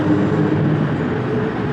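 A train rolls past near a spot full of tourists, a loud, steady rumble of wheels and carriages that continues through the short stretch with no voices.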